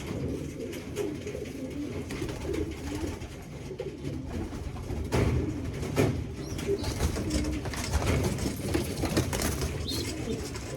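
Young pigeons of a large-bodied breed coo steadily in a loft, a dense, layered murmur of low throaty calls with occasional wing flutters, close and continuous without talk.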